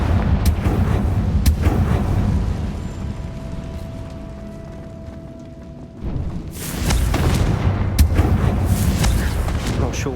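Confringo blasting spells in the Hogwarts Legacy video game on hard difficulty: loud booming blasts and rumbling impacts, a quieter stretch midway, then another burst of heavy explosive hits.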